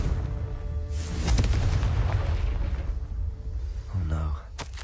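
A heavy booming blast from the Confringo fire spell in the Hogwarts Legacy video game rolls out loudly, followed by a smaller burst near the end, with a voice talking over it.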